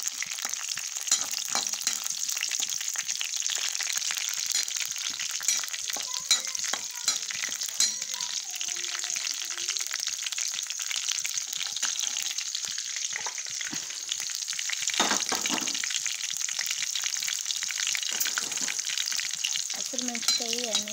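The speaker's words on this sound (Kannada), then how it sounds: "ಹಸಿರು ಮೆಣಸಿನ್ಕಾಯಿ ಎಣ್ಣೆ ಒಳಗೆ ಫ್ರೈ ಆದಂತೆ" Green chilies sizzle and crackle steadily in hot oil for a village-style churmuri susla, a dense, continuous frying hiss with a few faint clinks and stirring sounds and no talking.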